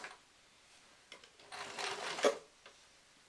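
A sewing machine stitches trousers being mended, heard as a faint, brief whirring run that builds over about a second before stopping, with a few quiet clicks and handling sounds around it.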